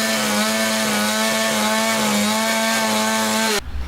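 Power saw cutting a metal bracket piece in half for an engine firewall mount, a loud steady whine with a constant pitch that cuts off abruptly near the end.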